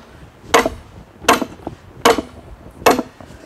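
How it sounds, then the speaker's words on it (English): Four heavy sledgehammer blows land about every 0.8 seconds while digging out a sunken garden bed, each a loud, sharp thud with a brief ringing tail, close by and with no talking. "grab the big sledgehammer and slowly,"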